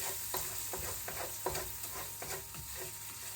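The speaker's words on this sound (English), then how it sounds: "I'm going to put it on low, medium, just to let it simmer here for a little bit" Meat with egg simmering in a pan on low to medium heat makes a faint, steady sizzle under a rhythmic series of soft stirring scrapes.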